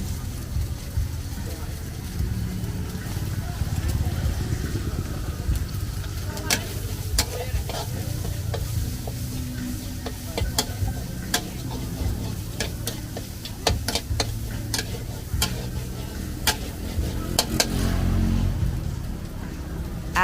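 Cambodian fried rice with egg, big prawns and calamari fries in a hot pan, a steady loud sizzle with repeated sharp scrapes and clanks of a utensil stirring throughout.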